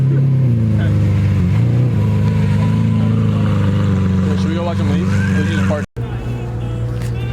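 Cars depart a car show at a mansion one after another, engines droning loud and close with rising revs and passing rumbles, a brief cut near the end, and voices chatting over them.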